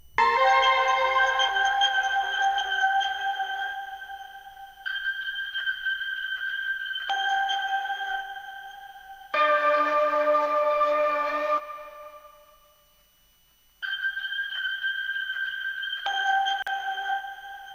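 A thin ambient synth texture from an Analog Lab preset plays as chopped, sustained tones sitting in the upper range, cutting in and out in separate blocks with one brief fade to near silence.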